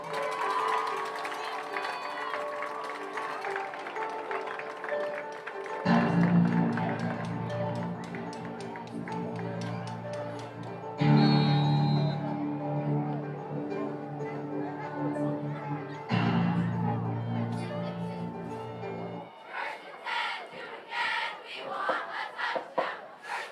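Fans at a Wayne Valley high school football game against Tottenville cheer and applaud for the Wayne Valley Indian marching band, a distant, steady crowd roar with shouts, broken by loud bursts from the band's brass.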